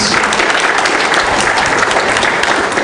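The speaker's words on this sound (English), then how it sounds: "Round of applause for the entire panel, please." Steady, dense applause from a large audience at a conference panel session, loud and continuous throughout with no voices standing out.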